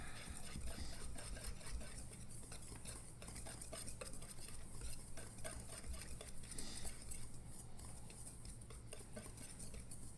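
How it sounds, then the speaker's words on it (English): A whisk stirs a brown sugar and green peppercorn brisket rub in a bowl, scraping and clinking steadily and faintly against the sides with no voices. "Just keep whisking, you'll be all right"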